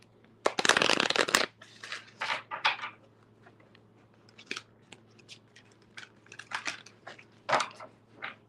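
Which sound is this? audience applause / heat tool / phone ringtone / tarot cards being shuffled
tarot cards being shuffled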